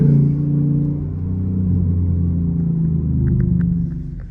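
A car engine rumbles low and steady at close range, its pitch dipping and rising as the revs are matched through gear changes, with a few faint ticks near the end.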